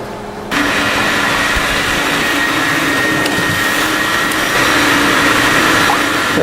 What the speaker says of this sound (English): We're in the bedroom extracting the carpet.